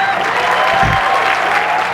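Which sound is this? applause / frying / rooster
applause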